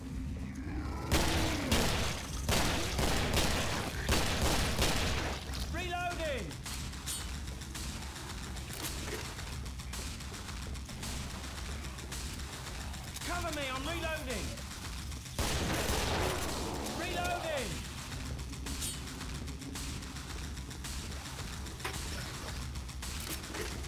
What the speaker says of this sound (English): New mag, give me a sec. Can't you see I'm reloading?